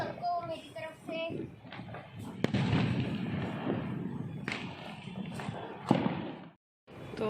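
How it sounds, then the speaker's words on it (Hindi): Firecrackers go off during Diwali night celebrations: a few sharp cracks and dull thumps sound at a moderate distance amid background bustle, and people talk over them. "तो अभी मयंक पटाखे फोड़ रहे हैं"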